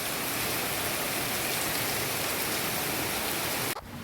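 Rain falls on garden plants as a steady, dense, close wash of drops that stays even, then breaks off abruptly near the end.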